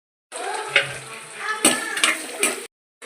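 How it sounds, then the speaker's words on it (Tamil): Onions, with green chillies and garlic, sizzle and crackle in hot oil while being sautéed for a fish curry, with occasional stirring and clinks of a utensil against the pan, close up. "அந்த வெங்காயம் வதங்கட்டும் வெங்காயம் வதங்கணும்"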